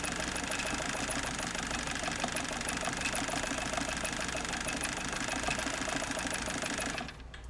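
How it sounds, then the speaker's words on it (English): A 1963 Kenmore 158.904 sewing machine runs steadily at a slow needle speed, its motor and needle mechanism producing a continuous close-up whir that stops abruptly at the end. "I'm just slowing down the needle so you can see that you can slow it down."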